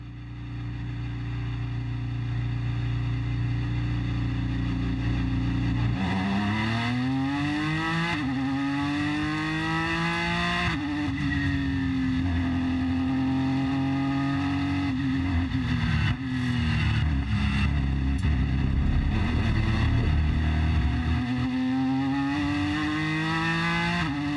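A Ford GT engine revs up steadily and pulls away from the pit box in a VR racing game, climbing through gear changes in a loud, continuous drone with rising pitch sweeps.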